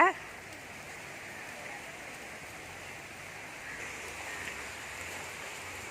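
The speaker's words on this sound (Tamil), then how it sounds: "நல்ல மழை எங்கள் ஊரில்" Steady, even hiss of rain falling, continuous and moderately close with no voices over it.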